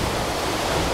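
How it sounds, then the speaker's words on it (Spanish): The Paccha waterfall near Pimampiro, Imbabura, Ecuador, roars as a loud, dense, unbroken rush of falling water close by. "Como pueden apreciar a mis espaldas, se encuentra la cascada."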